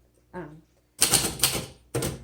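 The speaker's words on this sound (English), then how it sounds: "Oh, this has that nice little click, click, click, click, click" A short voice sound, then quick bursts of sharp mechanical clicking from the keys of a 1934 Royal Model O manual typewriter, close and fairly loud, in two clusters with a pause between.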